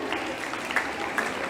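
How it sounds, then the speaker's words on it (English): Audience applause at a school G20 event after teachers are thanked, a steady wash of clapping that holds even and moderately loud through the whole stretch, with a couple of sharper claps standing out. "let us put our hands together and give them a big applause and thank them"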